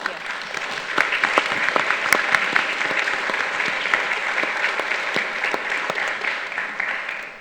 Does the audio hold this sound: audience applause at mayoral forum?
yes